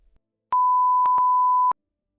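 A phone alert sounds as a clean electronic tone, four quick beeps in an uneven rhythm over about a second, clear and isolated with silence around it.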